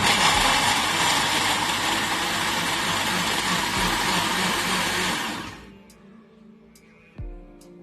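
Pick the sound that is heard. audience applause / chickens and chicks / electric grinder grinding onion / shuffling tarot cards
electric grinder grinding onion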